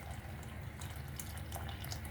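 Water from cooked mung beans drains through a strainer, giving a faint, continuous splashing trickle with no talk.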